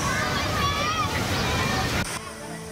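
River water rushes and sloshes as school students wade across in Pandeglang, a loud, continuous flow under the voices of children, then cutting abruptly to a quieter scene.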